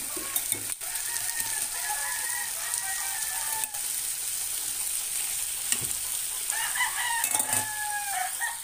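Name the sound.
chicken pieces frying with garlic and onion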